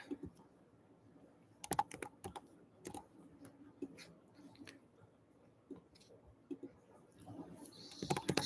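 Rapid, irregular clatter of keys as a phone number is typed on a computer keyboard, close and fairly quiet, arriving in short bursts with brief pauses and faint room noise between strokes.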